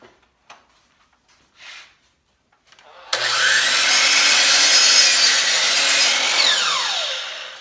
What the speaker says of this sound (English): a chop saw with a stop setup makes quick,